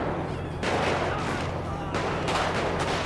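Loud bursts of gunfire in GTA 5, repeated shots in dense clusters, with a steady rumbling background throughout.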